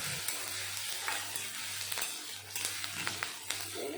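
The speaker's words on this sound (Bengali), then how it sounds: "এই গরম তেলের ভিতরে প্রথমে দিলাম রসুন কুচি তারপরে দিলাম আদা কুচি" Chopped garlic, ginger and green chili frying in hot oil for a cauliflower Manchurian, a dense close sizzle with light scraping and clinks of stirring in the pan, no voices.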